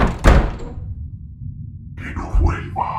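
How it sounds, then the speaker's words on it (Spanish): Two knocks on a door, a deep thud followed by a second softer knock, close and distinct, then faint whispery sounds. "2 golpes en la puerta me hicieron saltar en el puesto"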